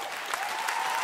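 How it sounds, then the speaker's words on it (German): An audience at a school sports show applauds, dense steady clapping that fills the space, loud and continuous with no voices standing out. "Das ist euer Applaus."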